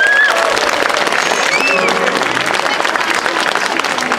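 An audience on an open square applauds ahead of a workshop band performance, loud sustained clapping from a sizeable crowd with scattered cheers and whoops rising above it.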